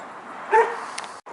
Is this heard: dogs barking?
yes